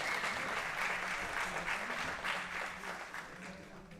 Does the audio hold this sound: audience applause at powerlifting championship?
yes